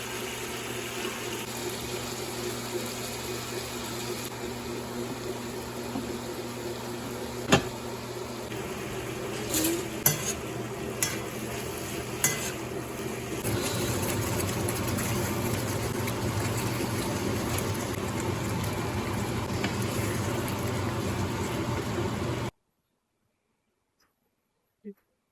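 Kitchen mixer grinding coconut with cumin and poppy seeds, a steady whirring drone with a few sharp knocks partway through, louder toward the end before stopping abruptly, followed by silence.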